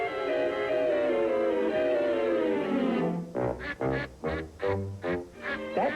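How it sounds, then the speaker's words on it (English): A mother duck quacks to her ducklings in a 1966 Disney animated nature program; after a sustained musical tone, a quick run of short nasal quacks comes in rhythmic bursts, loud and close. "That's duck talk for line up, little paratroopers, and bail out one at a time."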